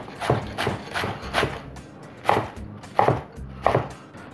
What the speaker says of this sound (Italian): andiamo a tagliare i nostri agretti in maniera molto sottile, così